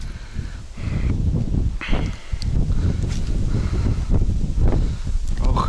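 Strong wind gusting over a river beside a fishing boat, a loud steady low roar with buffeting and rustle, close to the microphone and without clear speech.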